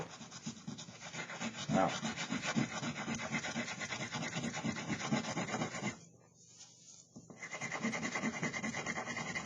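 Steady, close rubbing and rasping as a milk-paint finish on wood is burnished, with a brief pause near the end before the scraping resumes; one short exclamation is spoken.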